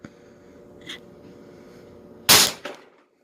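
Loud, sharp CO2-powered shot from a Grimburg HP68 air rifle firing at over 400 fps, a single crack followed quickly by a shorter second burst, standing alone against a quiet background.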